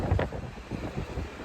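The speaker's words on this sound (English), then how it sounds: "The wind just gets to absolutely howling." Strong wind from an incoming spring storm buffets the microphone on a farm, a continuous low rumbling roar with gusty surges.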